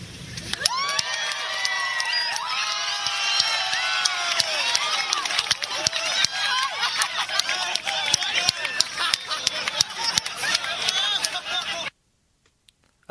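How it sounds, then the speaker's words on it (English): A studio audience erupts into loud cheering, whoops and wild cackling laughter that holds steady for about twelve seconds, with scattered clapping, before cutting off abruptly into silence. "why that applause erupted into a wild cackle"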